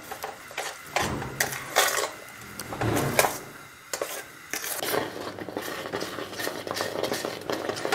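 Jam being stirred continuously in a kadhai, a spoon scraping and knocking against the pan bottom in a steady, busy rhythm with kitchen clatter, close and moderately loud.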